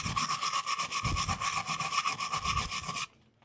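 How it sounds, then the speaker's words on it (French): A brush scrubs soil off the metal charging contact of a Navimow i210 robot lawnmower, a close, rapid rhythmic scratching of about fifteen quick strokes that stops abruptly. "je mets un coup de brosse"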